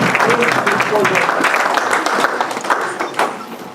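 A church congregation applauding and cheering, dense clapping mixed with voices that stays steady and then thins toward the end.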